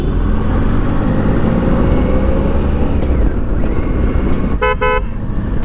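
Heavy motorcycle-level road traffic hums steadily and loudly throughout, with a short double car-horn toot near the end; no talking.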